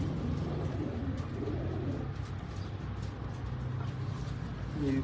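Pigeons coo softly amid a low, steady background rumble, with a few repeated cooing calls and a brief call at the very end.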